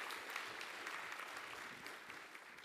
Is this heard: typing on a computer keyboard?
no